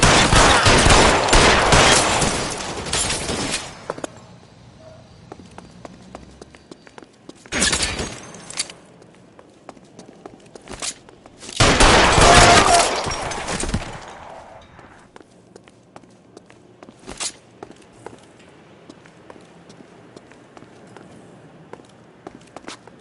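A gunfight in the video game L.A. Noire erupts in loud volleys of gunfire with quieter pauses between them, ending in a few isolated sharp shots.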